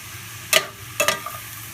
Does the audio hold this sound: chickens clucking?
no